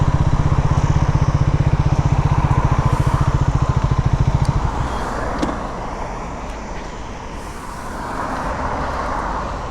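A motorbike engine idles at a toll booth, a loud rapid throbbing putter for the first half that then drops to a quieter rumble with passing traffic.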